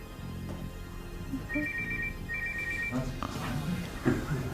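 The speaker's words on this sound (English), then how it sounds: "Whose phone is that? That's the second time it's gone off." A mobile phone ringtone sounds in two short bursts of repeating electronic tones, with muffled background chatter and room noise.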